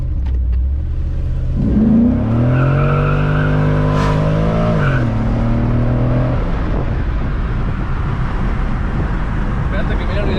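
A car fitted with a BTR Stage 4 NSR cam, in a TBSS, revving loudly with a rough lumpy idle before and after, close by, while people talk over it.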